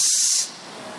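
A voice imitates the sustained hissing of the Arabic letter sin, recited in a Quran lesson: a loud, bright hiss held for about half a second, then it cuts off into faint room noise.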